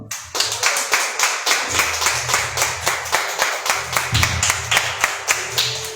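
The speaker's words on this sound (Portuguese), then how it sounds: "as palmas para o Senhor" Congregation at an evening church service clapping in a steady, rhythmic beat, with many hands striking together in unison at a quick, even pace, loud and close, with no voices over it.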